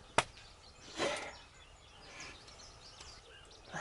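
Wild turkeys call in the open during a spring hunt, a couple of short gobbling bursts at moderate distance over quiet outdoor background.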